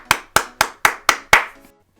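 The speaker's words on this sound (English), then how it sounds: "Let's give her a round of applause." Six separate hand claps in a steady rhythm, close and loud, each a sharp crack with a short decay, followed by silence; a sparse, solo-sounding round of applause rather than a crowd.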